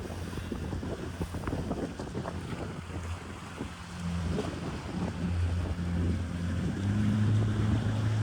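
A motorboat running on open sea during amateur boating training: steady engine drone with wind buffeting the microphone and water splashing against the hull, the engine tone rising and growing louder in the second half.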